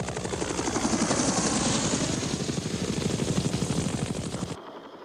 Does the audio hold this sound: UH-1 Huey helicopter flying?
yes